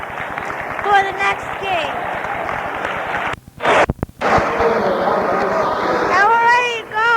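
A basketball arena crowd at a Final Four game with North Carolina, Georgetown and Louisville roars and cheers wildly in a steady, dense wash of noise, with someone talking over it and a brief lull partway through.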